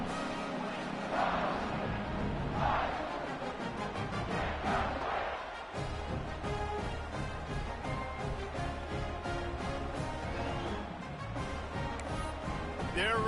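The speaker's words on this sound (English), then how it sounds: "this crowd is buzzing after that last score" A college football stadium crowd keeps up a loud, steady roar after a fourth-quarter field goal stretches the lead, with a dense wall of cheering that barely dips across the whole stretch.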